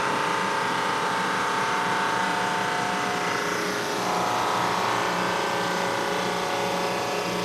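A machine with a conveyor belt runs steadily while sanding a board, a dense continuous mechanical roar and whir that holds close and loud throughout with a slight shift midway.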